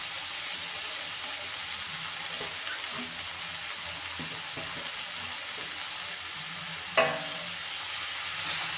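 Chopped mustard greens sauté in hot oil with fried chillies and cooked-down tomato, giving a steady, even hiss with soft, sparse stirring scrapes and one brief clink, close and moderately quiet.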